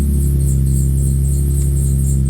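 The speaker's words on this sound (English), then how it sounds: "Oh, squeaky belt." A Nissan Z car's engine idles with a loud, steady low hum while a squeaky belt adds a fast, continuous chirping squeal on top, close up.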